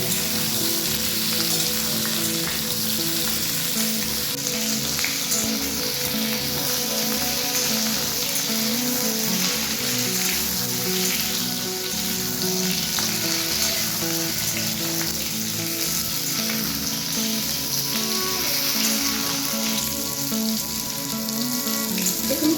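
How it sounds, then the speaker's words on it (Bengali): Pointed gourd frying in mustard oil as it is stirred, a steady loud sizzle with faint scraping, continuous and close, no talking. "এবার এটাকে আমি নেড়ে নিচ্ছি"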